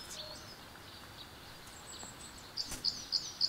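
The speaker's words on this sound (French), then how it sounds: "Maintenant qu'on ne fait plus de bruit, on peut entendre les oiseaux." Small birds chirping near a bird feeder, a few faint high tweets coming in a quick series toward the end over quiet background hiss.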